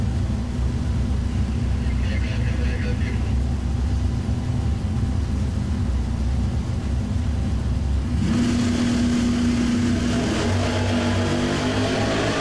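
Chevrolet Nova and a 1968 Chevelle launch hard off the drag strip start line, loud engines roaring and revving under steady track noise, then surging with a bright rising howl as they pull away.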